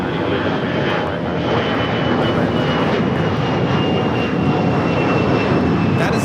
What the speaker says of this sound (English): 1024 taking off to San Antonio on the A319